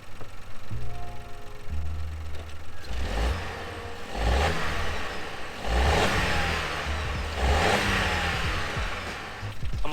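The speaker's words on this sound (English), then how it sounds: "I'm going to give it a quick couple of revs just so you can hear what it sounds like from the front" A stock VW Up GTI engine, heard from the front of the car, revs a few times in quick succession, rising and falling loudly above a steady idle.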